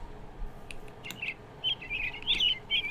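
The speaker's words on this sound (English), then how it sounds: "Those are robins, right?" Robins in the Minecraft Naturalist mod chirp in quick, bright bursts, a cluster of short tweets growing busier toward the end, with no talk over them.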